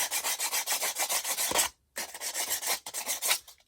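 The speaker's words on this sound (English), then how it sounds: "I can sand it." An edge is sanded by hand with quick, even back-and-forth rasping strokes, close and crisp, pausing briefly before the rhythmic rubbing resumes; wood is the likely material.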